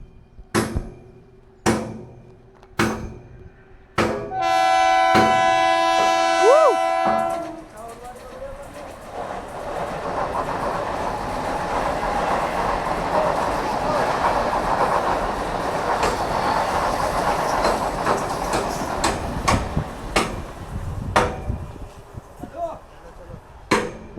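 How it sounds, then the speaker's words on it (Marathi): A Mumbai local commuter train from Titwala, bound for CSMT, rolls into the station with a loud horn blast, then a long steady rumble and rattle of carriages passing close, with scattered clanks and knocks before and after. "आता तुम्हाला लोकल दाखवतो टिटवाला स्टेशनवरून आलेली जी आपल्याला CSMT घेऊन जाणार आहे हे बघा"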